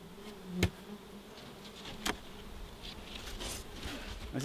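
Honey bees buzz around an opened hive during requeening, a continuous droning hum with individual bees passing close by, and two sharp knocks or thumps break in along the way.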